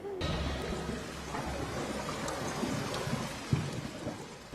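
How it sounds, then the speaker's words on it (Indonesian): Heavy rain pours in a dense, constant hiss during a thunderstorm at night, with a low rumble underneath and one sharper thud near the end. "di bawah guyuran hujan"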